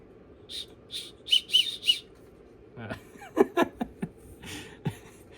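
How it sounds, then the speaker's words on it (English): Several short shrill whistle blasts from a small whistle built into a survival spoon-knife-spork, coming in quick bursts, followed by softer clicks and rustling handling sounds. "Here is the spoon knife spork thing. It has a whistle."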